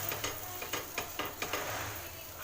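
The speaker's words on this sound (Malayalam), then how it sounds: "ഇത് നമ്മൾ ദോശക്കല്ലിലോട്ട് എണ്ണ തൂക്കുക, ഒന്ന് പ്രസ് ചെയ്ത് പരത്തി കൊടുക്കുക" Wheat flour dosa batter sizzles on an oiled griddle, a constant frying hiss broken by a run of sharp scraping and tapping strokes as it is pressed and spread. No one speaks.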